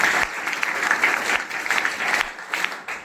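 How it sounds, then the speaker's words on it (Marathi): Loud applause at a Rotary installation ceremony at Shishu Mandir School in Khopoli, welcoming incoming president Sai: a crowd claps hard and steadily, with a brief dip near the start and a slight easing toward the end. "हिचाही आपण एकदा जोरदार टाळ्या वाजवून स्वागत करूया"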